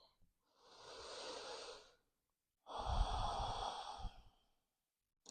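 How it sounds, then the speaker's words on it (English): Two slow, deep breaths in a yoga child's pose, one long inhale and then a fuller, louder exhale, soft and close in a quiet room. "Take a moment here, take a breath."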